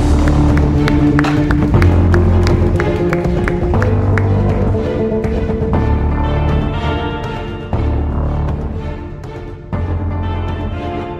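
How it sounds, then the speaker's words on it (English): Audience applause for guests at a Computex 2018 press event, loud and sustained clapping with some cheering from a large room, while music plays underneath and the clapping slowly thins toward the end. "let's give a wonderful round of applause to our esteemed guests"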